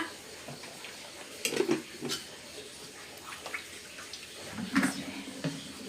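Dishes and cutlery clatter in a Kerala home kitchen during the making of a pressure-cooker chickpea curry, with tap water running faintly. The clinks come in scattered bursts, a few sharper knocks standing out against steady background noise.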